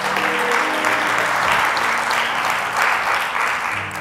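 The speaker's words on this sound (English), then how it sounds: "Clap your hands for the Holy Ghost." A church congregation claps at a gospel service, a dense, continuous wash of hands clapping that fills the room steadily for several seconds without a break.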